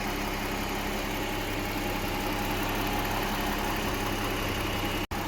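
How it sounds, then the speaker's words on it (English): A 2007 Chrysler 300 engine idles steadily just after starting following a faulty relay fix, a dense continuous hum with a brief cut near the end. "Now the car is starting."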